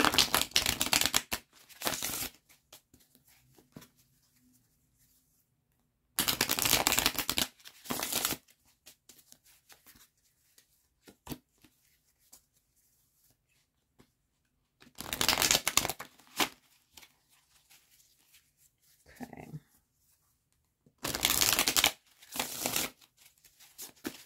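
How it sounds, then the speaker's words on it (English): Tarot card deck being shuffled by hand, with four loud, close bursts of riffling cards separated by quiet stretches holding faint handling taps and rustles. "let me shuffle up this deck before we get into card two."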